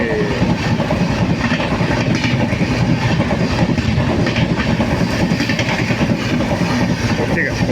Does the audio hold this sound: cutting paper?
no